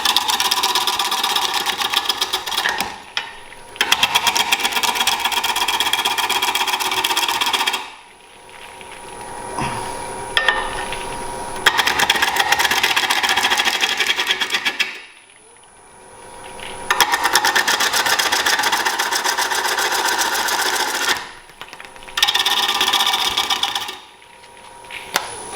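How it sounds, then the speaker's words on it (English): A wood lathe turns a bowl and bogs down under cutting pressure, giving a steady whirring drone in several long runs broken by short pauses, with scraping cuts layered over the motor. "As I started putting some good pressure into it, started removing some material, it actually started to bog itself down."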